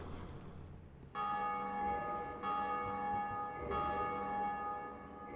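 A large bell tolls in Dark Souls Remastered, three to four resonant strikes about a second apart, each ringing on with a long sustained hum, heard alone at moderate loudness.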